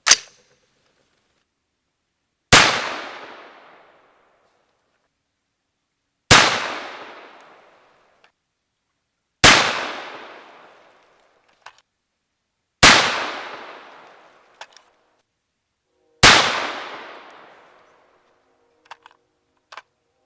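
A 300 Blackout rifle fires 240-grain Sierra MatchKing subsonic rounds, six sharp, loud reports spaced a few seconds apart, each with a short decaying tail, and faint small clicks between shots.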